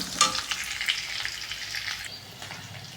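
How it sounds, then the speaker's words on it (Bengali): Onion, green chili, bay leaf and five-spice seeds fry in mustard oil, a soft, steady hiss and crackle with a few light stirring taps early on, fading slightly toward the end, no voices. "এখন ভালো মতন ভাজা ভাজা করে নিচ্ছি"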